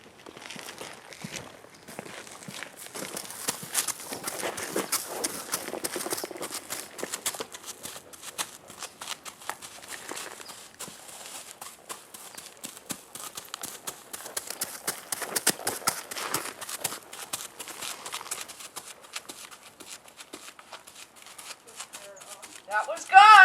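Hooves of the horse Semi moving through half pass training under a rider in an astride English saddle, soft irregular thuds and shuffling steps at moderate distance, with voices talking over them.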